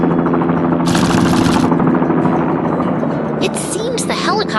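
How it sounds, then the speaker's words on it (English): A cartoon helicopter flies over a construction scene with a loud, steady, rapid rotor chop, joined by short bursts of whooshing effects near the end. "The helicopter is back in the air, soaring peacefully above the city once more."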